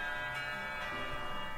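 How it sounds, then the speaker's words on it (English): School bells ringing to signal the end of a break in the visual novel Katawa Shoujo, a steady sustained bell tone with rich overtones, heard alone. "It isn't long before the bells are signaling the end of the break."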